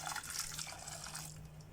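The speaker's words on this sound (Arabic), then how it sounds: "هنجيب بقى حبه ميه مغليه" Boiling water poured into hot chili sauce for Egyptian koshary, a soft, steady liquid trickle and hiss, close but quiet, with no talking.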